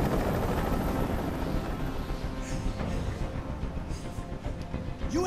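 A helicopter in the video game Detroit: Become Human gives a steady, loud, broadband rotor and engine drone that fills the whole clip, with rushing wind-like noise over it and no speech.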